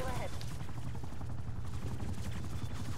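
Rapid gunfire in a Call of Duty match, a steady dense rattle of shots running the whole way through with a low rumbling bed beneath it, and a voice faintly present at the start.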